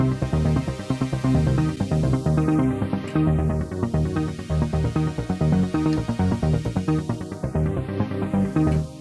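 A synthesizer plays a straight arpeggiated chord pattern over sustained chords, with rapid repeating notes and sweeping filter rises in a dense, loud, continuous musical texture.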